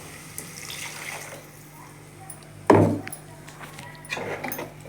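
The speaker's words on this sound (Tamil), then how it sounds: "இப்போ என்ன பண்ணலாம் தண்ணி ஊற்றிடலாம்" Water is poured into a simmering dried fish kulambu in a home kitchen, heard as one brief, fairly loud splash midway through, set against low background hum and faint clatter.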